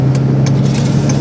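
A Cummins diesel engine runs steadily while the vehicle drives, a continuous low hum with faint higher whooshes passing, no talking.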